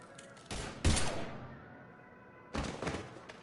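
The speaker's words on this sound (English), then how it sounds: "Now open fire!" Gunfire in the video game Mass Effect 3: two brief bursts of shots, a louder volley early and another a couple of seconds later, with no voices.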